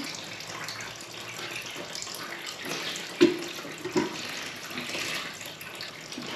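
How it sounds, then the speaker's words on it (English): Water drains from the cooling hoses of a Yamaha FZ motorcycle, a steady splashing, running flow like a tap, close and continuous, with a couple of brief knocks partway through. "the water coming out of the top portion looks nice and clear"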